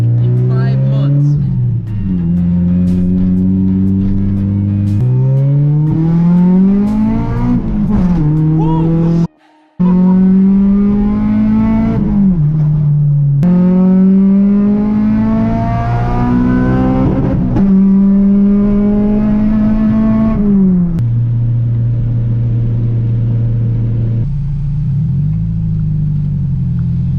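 A Honda B18C1 engine revs hard through the gears, its pitch climbing steeply again and again as VTEC engages, loud and close with brief drops between pulls and a short cutout partway through.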